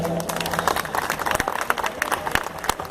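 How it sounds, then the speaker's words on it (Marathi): An audience at a live stage show in Dombivali claps to welcome the performers. The applause is a moderate, steady patter of many hands with brief voices mixed in. "तसं सर्व टीमचं जोरदार टाळ्या वाजवून स्वागत करा आमच्या कलाकारांचं."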